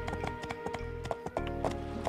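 A horse trots in the life-sim video game My Time At Portia, its hooves making a steady, quick clip-clop rhythm over soft sustained game music.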